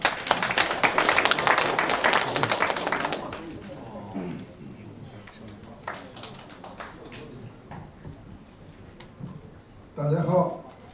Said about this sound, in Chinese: 让我们用热烈的掌声欢迎一下。